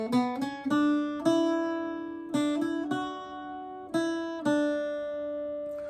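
Irish bouzouki alone plays the second line of the tune Sí Bheag, Sí Mhór, with close, bright plucked notes in small clusters, each left to ring and decay slowly.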